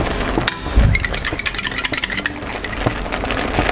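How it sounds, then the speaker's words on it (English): A whisk beats two egg yolks in a bowl, producing a rapid, fairly quiet run of clinking taps against the side for a few seconds over faint kitchen background noise. "I'm just going to whisk our 2 egg yolks and get those whisked"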